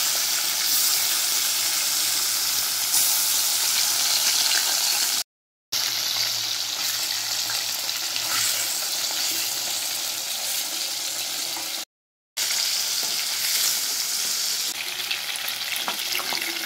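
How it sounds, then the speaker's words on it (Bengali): Pieces of fish fry in hot oil with a loud, steady, dense sizzle that continues without a break, cut only by two brief silent gaps. "মাছের টুকরোগুলো আমি এবার ভেজে নিচ্ছি।"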